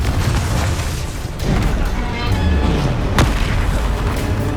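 A Confringo spell explosion in the Hogwarts Legacy video game, a loud, deep boom over a thick wash of continuous battle noise, with a sharp crack near the end.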